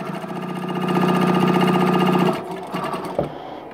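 Sewing machine stitching a quarter-inch seam on quilt block pieces, a close steady whirring run for about two seconds that then stops, followed by a few soft handling clicks.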